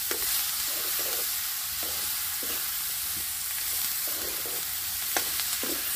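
Pork fries with drumstick and onions in hot oil, a dense, loud, continuous sizzle close up, with soft rhythmic stirring scrapes recurring about once a second and a sharper clink near the end.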